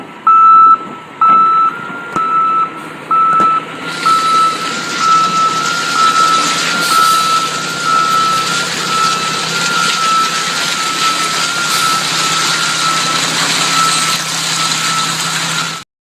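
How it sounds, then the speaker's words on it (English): A garbage truck reverses into a waste management facility, giving a loud run of evenly spaced reversing beeps over its idling engine. The beeps give way to a continuous engine drone that holds until a sudden cutoff. "that was a garbage truck backing up"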